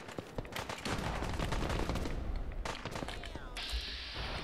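Enemy gunfire in Fallout 4 during a prison camp fight, dense and continuous bursts of shots and impacts under game noise, with a voice briefly audible among the shots.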